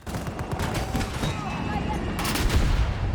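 Rapid 30mm cannon bursts from a stealth helicopter in Battlefield 2042 hammering an enemy tank, dense booming fire continuing throughout with loud low-end impacts and explosions, faint game voice underneath.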